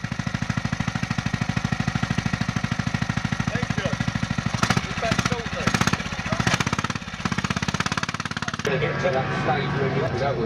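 A Yamaha Virago motorcycle idles at an owners' club gathering at Mallory Park with its throttle held open. The engine runs with a steady, rapid thumping beat throughout while people talk nearby.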